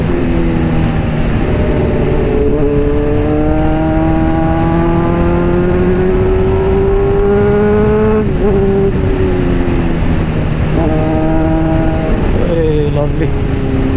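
A Honda CBR motorcycle rides along a road, its engine loud and close with rising and falling revs and repeated gear-change dips, over constant wind rush.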